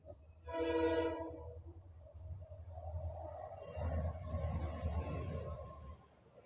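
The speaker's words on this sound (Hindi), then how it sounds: "ये देखो अभी ये जा रही है एक्सप्रेस।" An express train passes on tracks beside apartment buildings, sounding a horn blast at first, then rumbling by at a moderate distance with a steady low roar and rising clatter.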